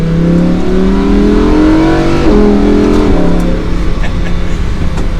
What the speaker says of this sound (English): Do a little bit of an acceleration, still in Strada mode. Very quiet exhaust.